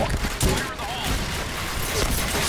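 M1014 shotgun firing in Point Blank, a burst of rapid, loud gunfire blasts across a couple of seconds, dense and close, with a voice partly present underneath.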